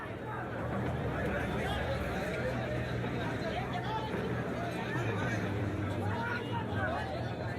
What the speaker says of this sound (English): So at rush hour, the stations are swarming with people.